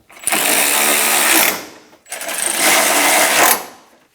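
A power tool, likely an impact or ratchet driver, snugs radiator bolts on a 2000-2006 Toyota Tundra in two loud, sustained close-up whirring bursts of about one and a half seconds each, separated by a brief pause.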